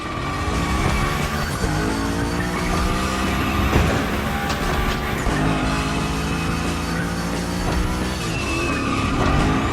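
A Hoonigan car drifts through tricks, its engine roaring loud and steady while its tires squeal and skid almost continuously, with no voices.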